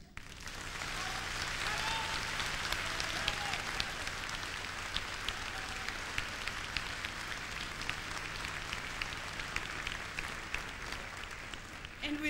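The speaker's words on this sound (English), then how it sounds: "I would like to share your wonderful applause, ladies and gentlemen" Sustained applause fills a concert hall for a 1990 live show in Yokohama. Dense, even clapping from a large audience carries on for the whole stretch, with a voice faintly heard over it.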